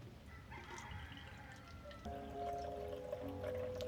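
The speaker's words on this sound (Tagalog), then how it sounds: "Lagyan natin tubig." Water is poured into a container, a faint steady trickle under a quiet room tone, with a rooster crowing in the background.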